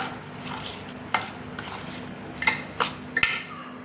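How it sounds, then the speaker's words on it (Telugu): Fried drumstick pieces being stirred into an avakaya mango pickle mix of spice powders in a steel vessel, giving scattered soft scrapes and a few sharper clinks of spoon on metal, close and alone. "ఇప్పుడు వేయించుకున్న ములక్కాడ ముక్కలు ఒక్కసారి మళ్ళీ దీన్ని కలిపేసుకుందాం"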